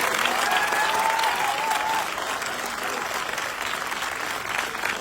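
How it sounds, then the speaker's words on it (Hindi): Audience at a motivational speech event in Patna claps warmly and steadily, a dense wash of applause that stays loud throughout, easing slightly after the first couple of seconds. "दिल खोल के ताली बजाएंगे।"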